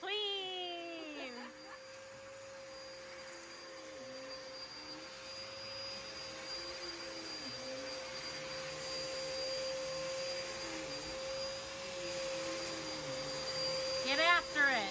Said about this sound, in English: Alright, vacuum time.